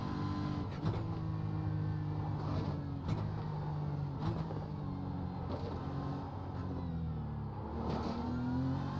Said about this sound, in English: that Mercedes does sound absolutely epic coming up the hill